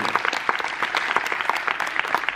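A conference audience claps together, a dense steady round of applause heard close and loud for the whole stretch.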